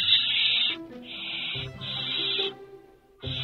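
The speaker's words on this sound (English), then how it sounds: "Barn owl chicks usually fight over food," Barn owl chicks in a nest give long, harsh hissing screeches one after another while sharing food, loud and close with short gaps between calls and no talking.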